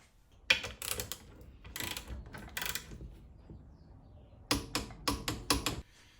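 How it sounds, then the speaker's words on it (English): A ratchet tightening a nut on a shock from a 2016 RZR XP1000, delivered in quick bursts of sharp clicking strokes with short pauses between them, close and clear with no voices. "We're going to torque this thing down"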